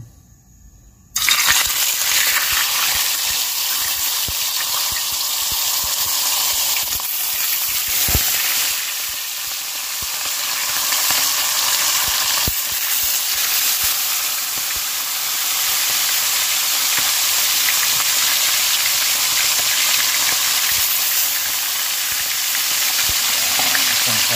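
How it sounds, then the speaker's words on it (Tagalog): Fish frying in a hot pan (kawali), a loud, continuous sizzle that starts abruptly after a moment of quiet and holds steady throughout, with occasional crackles and pops. "umpisa na po natin sa pagpiprito ng ating isda"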